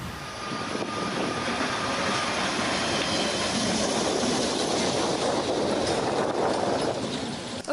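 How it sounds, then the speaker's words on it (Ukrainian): Electric trams running on city streets in Zaporizhzhia: a steady, broad rumble and whir of wheels and motors that continues for several seconds, fairly loud, with no talk over it. "Зокрема, почали курсувати шість трамвайних маршрутів."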